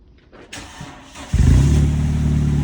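A 1995 Honda Accord coupe engine cranking and catching, then settling into a loud, steady low rumble at close range after a few faint clicks and a short starter burst.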